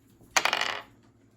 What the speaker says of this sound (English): First, rolling the skill dice